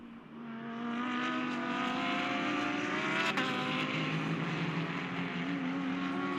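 A GT race car on the Indianapolis circuit weaving side to side to warm its tires, its engine holding a steady, loud drone with slight pitch shifts throughout, no voices.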